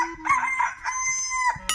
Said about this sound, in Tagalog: tumilawak po yung manok